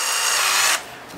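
A power drill fitted with an old bit spins with a loud, steady whine for under a second and then cuts off, stripping line from an Abu Garcia Black Max fishing reel set on free spool.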